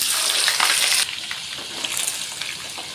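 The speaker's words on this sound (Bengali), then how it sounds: "আলুটা প্রায় ভাজা হয়ে গেছে" Cut potatoes fry in hot oil seasoned with cumin seeds and bay leaf, a loud, close, continuous sizzle that drops a little partway through, then carries on with faint stirring clicks.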